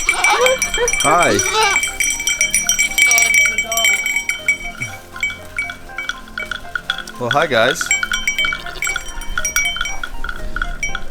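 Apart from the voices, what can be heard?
goats bleating near a Toyota Land Cruiser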